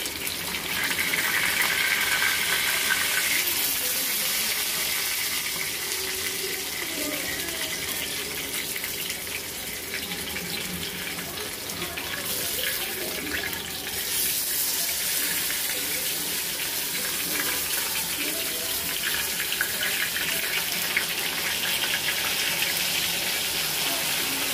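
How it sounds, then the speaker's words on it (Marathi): Surmai fish fries in a pan over a low gas flame, producing a steady, loud hiss and crackle that holds without letup, close to the pan. "आता आपल्याला दुसरी साईड मस्तपैकी बारीक गॅसवरती छानपैकी आपल्याला भाजून घ्यायची आहे"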